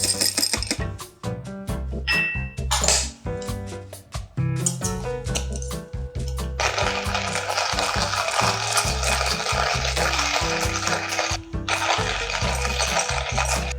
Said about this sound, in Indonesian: Dan setelah 20 gram ya kita grinding dulu sambil nunggu airnya panas